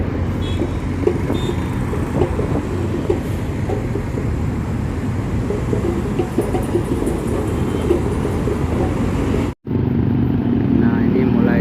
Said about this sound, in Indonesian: Nah ini mulai kelihatan satu unit armada bis Garuda yang datang dari arah tol Jagorawi mengarah Parangsiang.